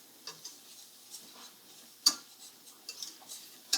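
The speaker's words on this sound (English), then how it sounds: "So I'm just gonna whisk it around and let the butter absorb the flour" A whisk scrapes and clicks lightly against a pan while butter and flour are worked together with onions into a thickening paste. Soft, irregular taps and one sharper knock sound close and quiet, with no voices.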